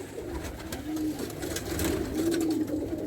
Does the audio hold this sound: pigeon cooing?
yes